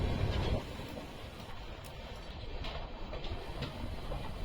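A passenger train on the run from Kolkata to Jammu, heard from a seat inside the carriage as a faint steady rumble and rattle of the wheels, with a brief louder thump at the start.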